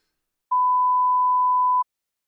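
A single steady censor beep, a pure mid-pitched tone lasting just over a second, sounds alone and loud against silence before and after.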